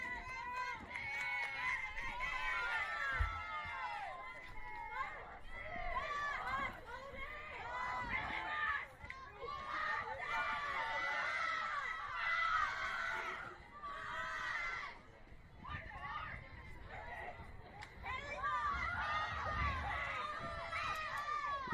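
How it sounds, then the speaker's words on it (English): Crowd at a softball game between SW Storm Navy and Carolina Elite SC screaming and cheering toward the dugout, a steady loud roar of many voices with rises and dips throughout. "They're screaming for the dugout."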